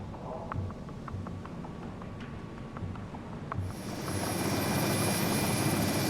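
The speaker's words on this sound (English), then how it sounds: "The SH-3 takes off." An SH-3 helicopter takes off in the naval game Sea Power, with rhythmic rotor thumps first, then a rising, louder engine whine and roar that fills the rest of the clip.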